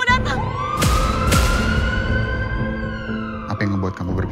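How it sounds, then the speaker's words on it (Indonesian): An ambulance siren wails steadily in a long, slowly rising tone, loud and close, with background sound and a couple of sharp bursts mixed in. "Ambulans sekarang mau datang."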